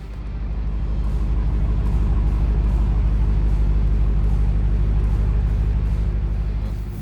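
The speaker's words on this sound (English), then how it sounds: "2020 Charger Hellcat Widebody with stage 1 package, so we're going to drive this." A 2020 Dodge Charger Hellcat Widebody with a stage 1 package drives on the road, its engine a deep, steady rumble heard from inside the car that swells slightly and then holds loud and constant.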